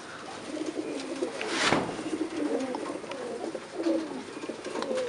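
Pigeons at a breeder's loft keep up a continuous low cooing, several birds overlapping, joined by a sharp wooden knock about midway, with no one speaking.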